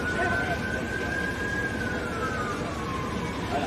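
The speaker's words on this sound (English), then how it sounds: "I've been hearing nothing but sirens since I got it." An emergency vehicle siren wails at a distance, one long gliding tone rising and falling over steady background noise, faint but clearly audible.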